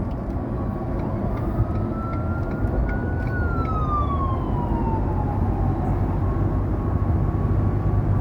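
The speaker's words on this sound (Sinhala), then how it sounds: "ඔය තමයි මේ තියෙන ඇම්බියුලන්ස්." An ambulance siren wails in one long rising and falling sweep over continuous road and traffic rumble on a city highway between Fort Worth and Dallas, heard from a moving vehicle.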